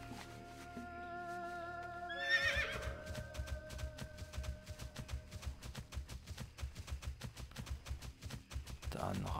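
A horse mount in World of Warcraft neighs with a drawn-out whinny, then steady, rhythmic clip-clop hoofbeats carry on as it gallops over a soft game music bed.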